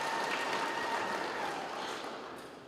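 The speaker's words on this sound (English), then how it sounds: "I also want us to clap of this because of this difference that we are seeing here." A crowd at a regional state-of-the-region address applauds in a steady, dense wash of clapping that fades slightly toward the end.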